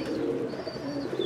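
Pigeons of good high-flying breeds coo in low, overlapping murmurs, close and continuous, with a faint higher chirp drifting over them.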